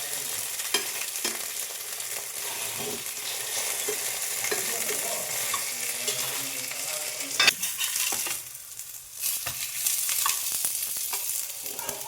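Flour-and-atta tiffin snacks fry in ghee on a tawa with a continuous close sizzle, occasional soft scrapes and taps, and a short dip in the hiss partway through, with no voices.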